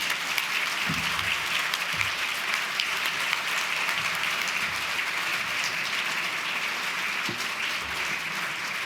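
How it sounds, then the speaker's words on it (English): Sustained applause for a keynote speaker at a human rights awards dinner, a broad even roar of many hands clapping, fairly close and continuous throughout. "another big round of applause for our keynote speaker"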